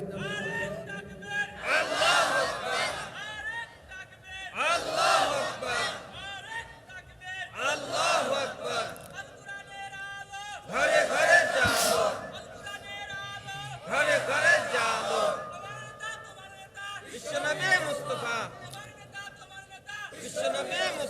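A crowd at an Islamic sermon gathering shouts a takbir chant in repeated loud bursts, each swell of massed voices answering a lead call, roughly every two to three seconds.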